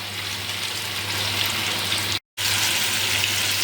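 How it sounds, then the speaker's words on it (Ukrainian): Meat sizzles steadily in a pan, a dense close crackling hiss with a low hum beneath, broken by one brief moment of silence before the frying resumes at the same level. "зараз буду м'яско підсмажувати"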